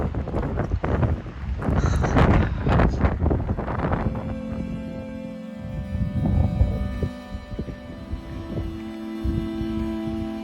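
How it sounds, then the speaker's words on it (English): Strong desert gusts of wind buffet the microphone in loud rumbling blasts near the Grand Canyon, easing into a steadier roar with a faint hum underneath. "It is really windy today too."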